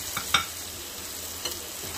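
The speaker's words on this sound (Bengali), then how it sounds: "নাড়াচাড়া করে নিচ্ছি" Chickpea masala frying in a pan as it is stirred. A soft, steady sizzle is broken by a few light scraping strokes of the spoon, with no talking.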